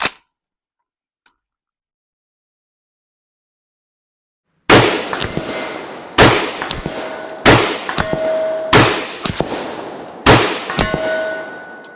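Five sharp, loud rifle shots from a Mark 18 carbine, fired at a steady pace of roughly one per second with ringing tails, following several seconds of near silence.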